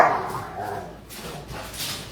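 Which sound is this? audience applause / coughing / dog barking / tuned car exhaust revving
dog barking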